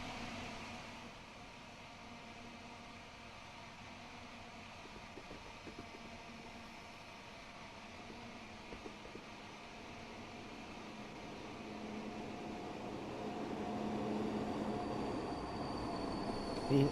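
A Class 90 electric locomotive runs in the Train Sim World 6 video game, giving a steady, continuous rail rumble and drone that swells slightly louder toward the end, with no talking.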